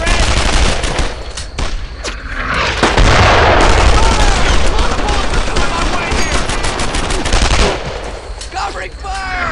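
Gunfire in the World War II shooter Brothers in Arms: Earned in Blood: dense, loud bursts of machine-gun and rifle fire crackle continuously, with heavy booms mixed in and shouted voices in the clip.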